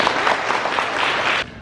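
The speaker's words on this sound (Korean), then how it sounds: "박수 부탁드립니다" A short burst of dense audience applause at a money-themed financial concert, steady clapping from a crowd that cuts off abruptly.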